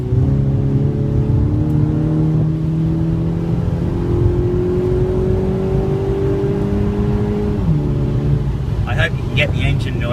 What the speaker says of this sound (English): Get the engine noise on the video. That's a little 4-cylinder turbo, but they've taken 500 kilos out of the car